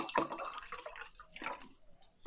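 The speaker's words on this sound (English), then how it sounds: "I do just need to pour myself a little glass of Evian" Evian water is poured from a bottle into a glass, a short, close, fairly quiet gurgling splash with a few drips.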